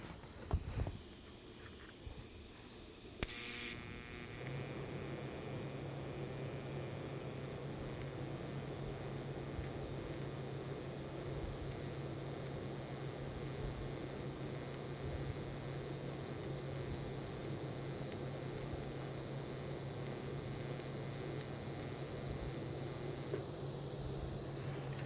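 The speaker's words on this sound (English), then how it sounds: "I'm going to bond this bronze to the base metal" A sharp click and brief burst, then a steady electric buzz and hiss from a TIG torch brazing bronze onto base metal, running continuously, fairly quiet, with no talk.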